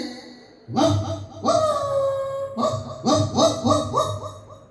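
A voice imitates a dog barking with a series of close, honking, nasal yelps, some drawn out and whiny, others short and clipped.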